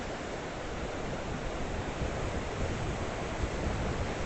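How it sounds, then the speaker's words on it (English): Waves surging against the rocks at the end of a jetty, a steady, broad, roaring wash with rising swells under continuous wind noise, with no voices. "The waves coming up on the rocks."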